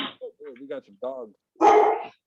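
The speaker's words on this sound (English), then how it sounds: "we got some dogs." Several dogs bark in a loud, dense burst near the end, following a stretch of people talking.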